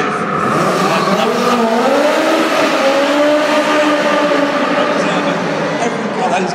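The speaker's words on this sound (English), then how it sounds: "What a fantastic noise from that supercharged engine, Tiff." A supercharged car engine roars loudly at a live Top Gear show at ExCeL London, its pitch sweeping up and down as it revs, with crowd and commentary noise mixed in.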